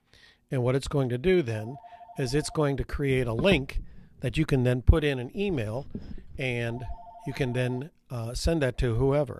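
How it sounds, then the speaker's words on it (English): Telephone ringing indoors, a repeated electronic warbling tone in two short bursts heard under continuous talk by a man. "I'm sorry that the phone is ringing."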